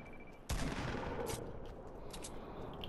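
Sharp gunshot from a sniper rifle in the Fortnite battle royale video game, a single loud crack followed by a lingering rumble and a few faint distant pops, with no one talking.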